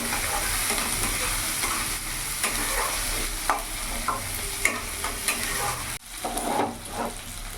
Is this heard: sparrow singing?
no